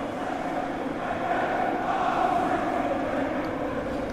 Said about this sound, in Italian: sentite i tifosi dei Citizens